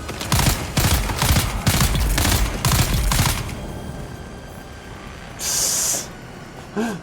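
Rapid bursts of rifle fire in the video game Dune Awakening, several loud volleys in quick succession, then a quieter stretch with a brief hiss and a short snort-like sound.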